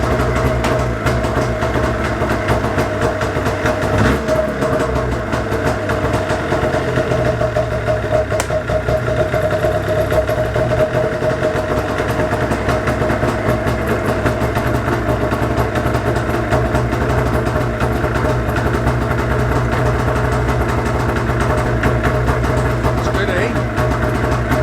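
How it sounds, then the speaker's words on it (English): A snowmobile engine runs nearby in Ontario, idling in a loud, even, unbroken putter with people's voices partly beneath it. "This is a good little rip around sled."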